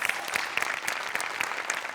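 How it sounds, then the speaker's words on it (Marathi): Studio audience applauding at a live Marathi comedy sketch show, steady dense clapping throughout, fairly loud and close with no talk over it. "श्याम्यासाठी एकदा टाळ्या वाजल्या पाहिजे"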